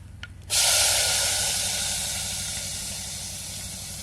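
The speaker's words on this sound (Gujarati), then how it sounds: "તેલ ગરમ થઈ ગયું હિંગ નાખી દઈ અને ડુંગળી નાખી દઈ" Onion and asafoetida hitting hot oil in a village kitchen, a loud burst of steady hissing sizzle that starts suddenly and slowly eases, close up with no talk.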